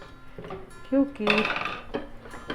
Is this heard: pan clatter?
yes